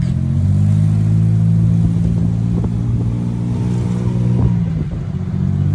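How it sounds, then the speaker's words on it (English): A small tuk-tuk engine drones and revs during a ride through Bangkok, loud and close. Its buzzing tone rises and falls a few times over a constant road rumble. "Jumped in a little tuk-tuk"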